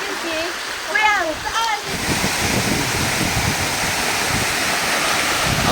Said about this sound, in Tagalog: So we are now here at Barrio City Falls